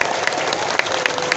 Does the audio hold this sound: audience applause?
yes